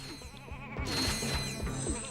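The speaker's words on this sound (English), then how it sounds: "Anyways, we still got plenty of sheep here." Sheep bleating in the video game Ratchet & Clank: Going Commando: wavering, nasal bleats that repeat and overlap, fairly close, over a constant bed of game ambience and music.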